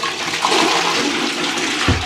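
A toilet flushes in a hotel bathroom, a loud close rushing of water that fills the whole moment.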